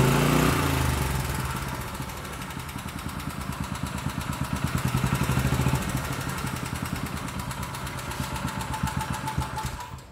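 A Mitsubishi GM181 petrol engine runs steadily up close with a fast, even chugging beat and a mechanical clatter, its loudness rising and falling slightly as the throttle shifts.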